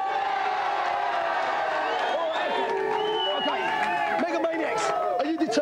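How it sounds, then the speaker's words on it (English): Studio audience cheering and clapping for two competing teams at a televised video-game championship final, a loud, continuous crowd roar with whoops that holds throughout. "give them a big cheer"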